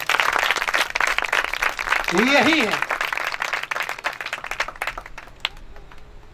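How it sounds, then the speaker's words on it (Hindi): A church congregation claps loudly and continuously in a dense, close burst of applause that slowly thins out, with a voice speaking over it and a brief shout partway through. "जोरदार ताली बजाएं खुदावंद यीशु मसीह के लिए।"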